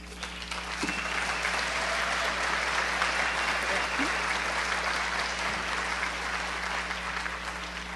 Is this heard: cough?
no